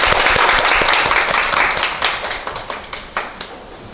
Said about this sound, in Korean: 두 분께 큰 박수 부탁드리겠습니다